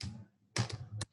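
A few quick keystrokes on a computer keyboard, faint and close, in a short isolated cluster with no speech.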